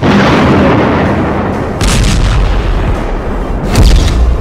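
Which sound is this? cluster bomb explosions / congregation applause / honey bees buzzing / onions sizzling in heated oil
cluster bomb explosions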